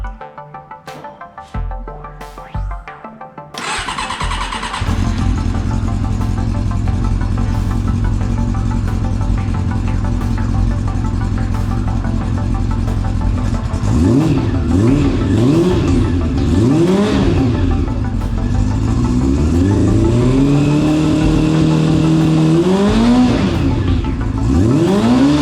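A Honda CB 400 Super Four motorcycle with a battery charging fault and a newly fitted rectifier starts after a few clunks. It settles into a loud, close idle, then revs repeatedly, the engine note rising and falling in swells.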